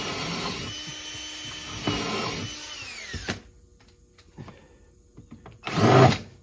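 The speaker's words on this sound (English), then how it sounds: "Put my screws in." Power drill driving screws into a composite decking board for a homemade beehive screened bottom board, a close whirring run that winds down, then a quiet pause with light handling before another short burst.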